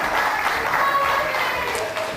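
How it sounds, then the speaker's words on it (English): Crowd at a live wrestling show applauds, a brief, steady wash of clapping from a moderate distance. "The crowd appreciative of these two's work, and both men applauding each other and the fans and pretty much everyone in attendance"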